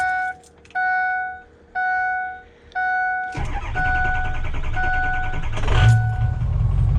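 A big black truck starts during a February snowstorm. A door chime beeps four times, then the engine cranks briefly, catches and settles into a loud, close idle, with no talking.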